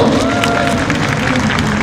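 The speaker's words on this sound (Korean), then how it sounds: "자, 박수 한번 뜨겁게 해주십시오" Large audience at a Korean church gathering marking the 100th anniversary of the March 1st Movement applauding, a thick continuous wash of clapping and murmur that stays loud and even throughout.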